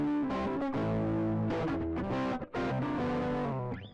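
An electric guitar plays a loud, saturated chordal riff through a Bogner Burnley distortion pedal set to its fat mode, with thick, gritty sustain and brighter treble, heard close with no talking.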